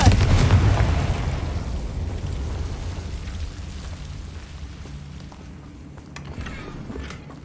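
A Confringo fire spell goes off in the video game Hogwarts Legacy, opening with a loud explosive burst that fades into a long, decaying rumble.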